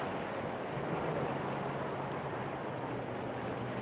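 Surf rolling onto the beach at Pantai Purus, a steady broadband wash of waves with wind noise, continuous and fairly distant, with no voices.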